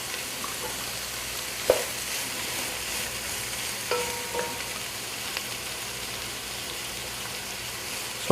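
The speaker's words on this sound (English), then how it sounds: "you need the oil to fry the onion" Onion frying in oil for Hyderabadi chicken dum biryani, a steady close sizzle with spoon stirring throughout, a few sharp utensil clinks standing out, and no talking.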